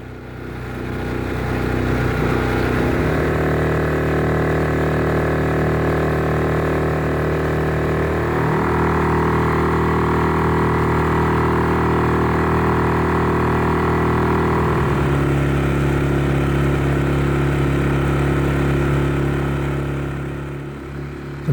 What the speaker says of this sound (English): I restarted the outboard and continued on my way for a tour round the loch